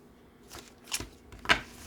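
Tarot cards being shuffled by hand during a card reading, two quick soft riffling bursts close by against a quiet room, with no talking.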